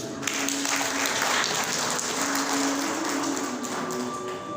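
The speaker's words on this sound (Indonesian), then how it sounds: "Tepuk tangan buat ini." Steady applause from a seminar audience fills the room, dense continuous clapping with a few thumps, holding at an even level throughout with no voices on top.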